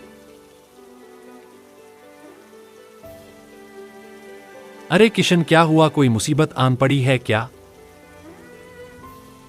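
Steady rain falls as a soft, continuous hiss throughout, first alone and then under several seconds of close, loud conversation between people.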